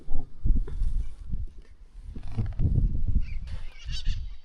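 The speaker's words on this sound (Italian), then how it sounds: "Senti che uccellamento qua fuori che c'è." Wild birds calling outside a parked car at dawn in Argentina, a dense, continuous chorus of honking, squawking calls, fairly close and steady throughout with no talking.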